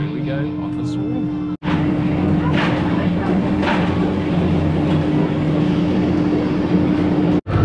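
Riders aboard the Swarm roller coaster at Thorpe Park, seated in the front row, with a continuous loud rumble and rush of wind and track noise, people talking and shouting over it, and two sudden brief cutouts.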